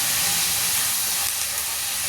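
Curry leaves and dried red chillies sizzle steadily in a pan for a karuveppilai thuvayal, a close, continuous frying hiss with no talking.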